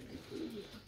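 Pigeons coo faintly, a soft, low, rolling murmur that stays distant and quiet for a moment.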